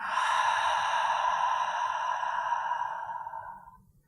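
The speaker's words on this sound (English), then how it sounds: "let's start with 3 audible exhalations." A long, steady breathy exhalation during yoga breathing practice, heard close and alone, broad airy hiss holding for about three and a half seconds before tapering off.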